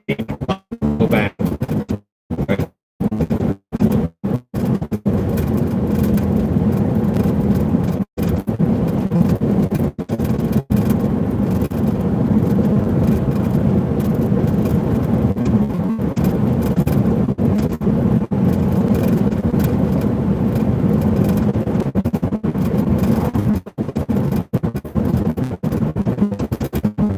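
Steady car engine and road rumble while driving into town, loud and continuous throughout with occasional abrupt dropouts near the start.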